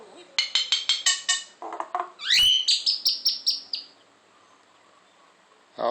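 A pet mynah bird lets out a rapid series of loud, whistled and buzzy calls and mimicked sounds up close, several bursts in quick succession, then falls quiet before a brief final noise.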